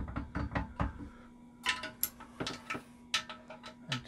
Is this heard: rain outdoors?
no